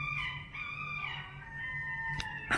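Seagulls in seaside Brighton call with drawn-out, tonal cries that overlap and carry clearly, ending in a sharper squawk, with no voices.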